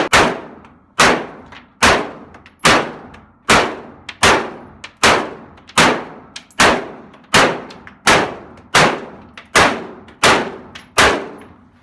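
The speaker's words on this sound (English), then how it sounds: "And David, you were just shooting my AR" AR rifle fired at an outdoor shooting range, about fourteen sharp, loud shots in a steady rhythm roughly one per second, each with a short ringing decay.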